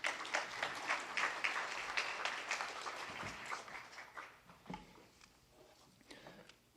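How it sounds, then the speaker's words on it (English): Applause from an audience at a community college workforce programs event, steady clapping that starts loud and thins out, fading into scattered claps by the end with no talk over it. "So let's give them a big round of applause."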